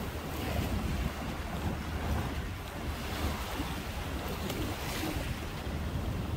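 Waves wash and surge continuously against the breakwater at Hujin Harbor, Gangneung, mixed with gusty wind buffeting the microphone; no voices.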